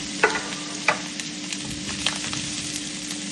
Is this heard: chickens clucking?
no